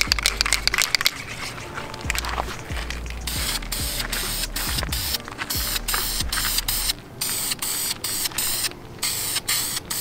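Spray paint hisses onto RC car wheels in short, repeated bursts, a loud close hiss broken by brief pauses and clicking of the can's nozzle.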